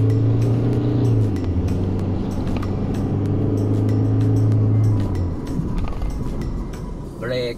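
Inside an Isuzu MU-X 3.0 4WD on the move, a steady low engine hum drones and shifts as the vehicle pulls away, while someone talks over it throughout.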